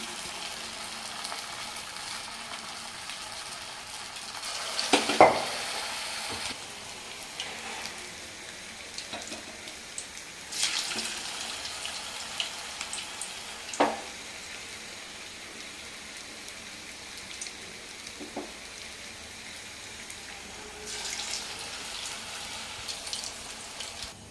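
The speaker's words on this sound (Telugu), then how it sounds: "ఆయిల్ అయితే హీట్ అయిపోయింది. ఇలా చిన్న చిన్న బాల్స్గా నేనైతే చిన్న మీడియం సైజు వేసుకున్నాను." Small, medium-sized veg manchurian balls fry in hot oil, giving a faint, steady crackle and sizzle with a few louder bubbling bursts and occasional clinks, with no voices.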